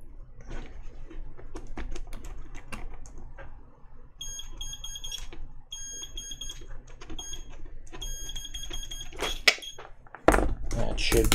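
Keys clack on a Kinesis Advantage keyboard retrofitted with Cherry ML switches, irregular rapid taps close to the mic, mixed with intermittent high electronic beeps and a loud burst of noise near the end.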